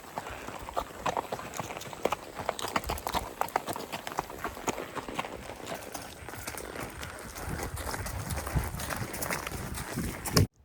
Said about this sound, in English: She was a really cool horse to ride.